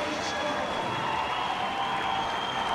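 Crowd applause at the 2013 FINA World Championships diving in Barcelona, dense, continuous clapping and cheering that fills a large venue at an even level throughout.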